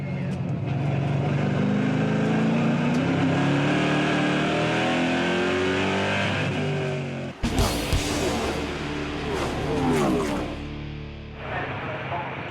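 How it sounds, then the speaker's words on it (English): NASCAR Euro Series race cars roar around Brands Hatch, engines droning and shifting pitch as they pass under braking, with a sudden burst of louder passing noise midway, while a commentator talks over the racing. "He shoots past Zimmer under braking for corner number 3."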